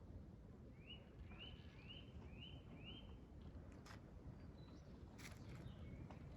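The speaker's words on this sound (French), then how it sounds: "Les oiseaux qui chantent." Small birds sing in woodland on wooded heights, a series of short rising whistled notes repeated in quick succession at moderate distance, over a steady breezy outdoor background with a few higher chirps later.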